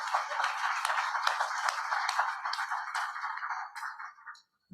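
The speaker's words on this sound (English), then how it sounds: "Can you get a round of applause for them, please?" An audience at a regenerative agriculture conference claps in sustained applause that tapers off near the end, followed by a short low thump.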